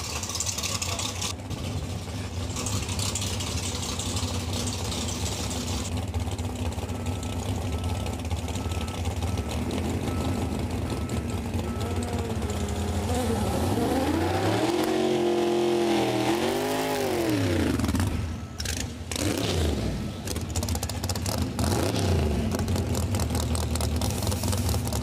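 Drag racing cars, including a Nissan GTR in the Big Tire class and an S10 Blazer, idle and rev at a drag strip event. A loud, continuous engine drone carries through, with rising and falling revs swelling midway. No voices are heard.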